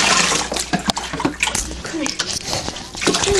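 Water rinsing a chihuahua puppy during its first bath: continuous splashing and running water close by, with a person's voice speaking over it.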